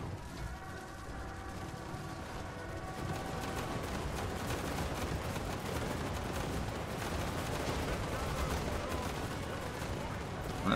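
Dwarf ranged units in a Total War battle fire rapidly, producing a continuous dense crackle of overlapping gunshots, steady and moderately loud across the whole stretch, with a faint wash of battle noise beneath.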